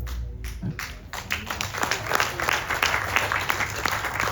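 Audience applause at an outdoor Ramayan in the Park religious gathering, dense clapping that builds after a brief quieter start and holds steady and fairly close, with a hint of crowd murmur.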